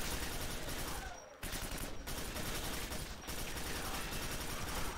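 Continuous heavy automatic gunfire in the sci-fi shooter Quake 4, a dense, loud, unbroken roar cut by a few brief pauses, with no voices.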